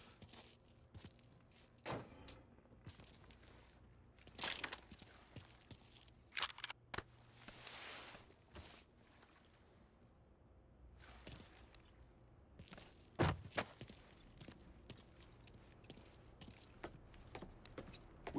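Keys jingle in Mafia III, rendered as quiet, close metallic jangles in several short bursts scattered over a near-silent background, with a louder cluster near the end and faint vehicle sounds.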